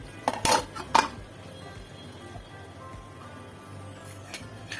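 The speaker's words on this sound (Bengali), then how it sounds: "এখানে আমি মাছগুলো দিয়ে দেবো" Pabda fish dropped into a cooking pan, a few clattering metallic knocks and scrapes of utensil against the pan up front, then a low quiet kitchen background.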